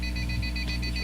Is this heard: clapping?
no